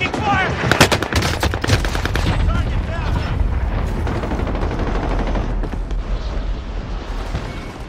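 Rapid video game gunfire, dense bursts of automatic shots and heavy booms crackling loud and close throughout, with a voice speaking over the fighting.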